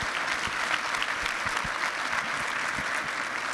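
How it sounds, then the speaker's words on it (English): A plenary audience applauds a group of leaders, a steady, dense wash of clapping from many hands that holds at an even level throughout. "another round of applause for this great group of people."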